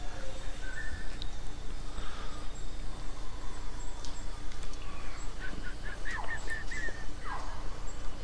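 Bird in the survival game The War Z mimicking gunshots, a series of short, sharp, chirpy calls in quick succession over steady ambient noise, fairly faint and heard alone.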